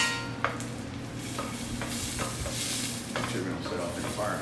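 Pasta with Bolognese sauce sizzles and fries in a pan while being stirred, a constant close crackling hiss broken by repeated scraping strokes of the utensil.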